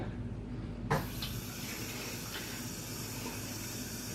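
Water pours into a cup of lactulose from about one second in, a close, steady hissing stream that runs to the end.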